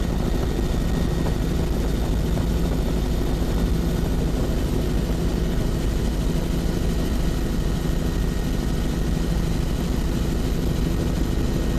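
Aircraft in flight over a marsh and complex island estuary near Lynn Canal, its steady rotor or propeller and engine drone loud and continuous throughout, with no talk.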